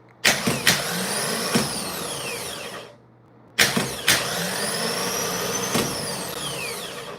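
A car starter motor running on a test bench, whining loudly in two long bursts with rising and falling pitch, sharp clicks at engagement, and a brief near-silent pause between runs.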